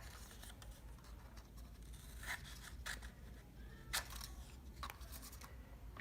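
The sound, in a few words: cutting a triangle out of paper with scissors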